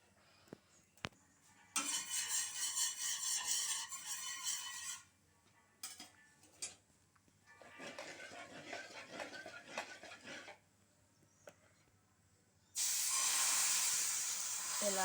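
Dosa batter sizzles on an oiled hot pan in loud hissing bursts, separated by quieter stretches with clinks of utensils, and a strong sizzle returns at the end.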